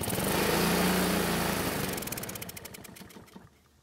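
Honda lawn mower engine runs loudly for about two seconds, then sputters with slowing uneven firing pulses and dies out to near silence, a symptom of a carburetor failing to supply fuel.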